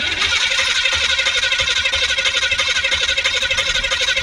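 A hot rod car engine cranks over and catches, loud and steady throughout with a constant dense mechanical roar and a rapid pulsing rhythm, no voices.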